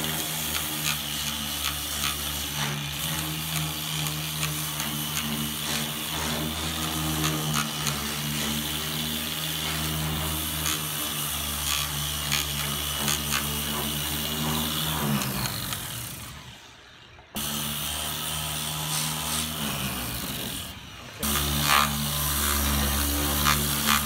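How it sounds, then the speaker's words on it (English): Dual action sander working over the welded metal of a car quarter panel, a steady loud mechanical whirr and hum running almost continuously, with two brief drops where it pauses before resuming. "I'm gonna sand this with the DA"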